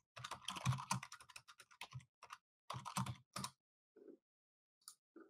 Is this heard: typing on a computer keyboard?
yes